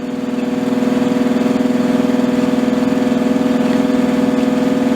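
An electro-magnetic pulse motor spinning at roughly 1200 RPM and climbing, giving a loud, steady, close hum with a fast regular pulsing flutter, running alone without talk.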